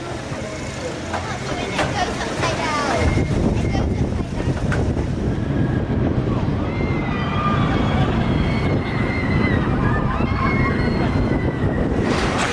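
The Rev roller coaster at Blackpool Pleasure Beach roars past, a loud rushing rumble of wheels on track that builds after about three seconds and holds steady, with faint screams and crowd noise around it.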